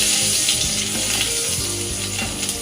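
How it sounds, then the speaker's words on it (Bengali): Six or seven cloves of chopped garlic fry in hot oil as the tempering for a brown pomfret fish curry. A loud, continuous sizzle carries faint stirring scrapes and no talk. "ছ থেকে সাতটা কোয়া রসুন একটু কুচিয়ে রেখেছিলাম সেটা আমি ফোড়নে দিয়ে দেবো"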